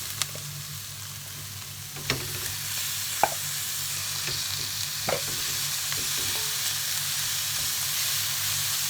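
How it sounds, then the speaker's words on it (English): Peppers sizzling in a pan for seafood pasta, a steady frying hiss punctuated by a few light clinks of a utensil stirring. "I'm now going to add the peppers."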